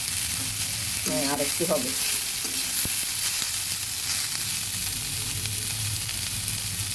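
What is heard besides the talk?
bitter gourd and potato frying, stirred in pan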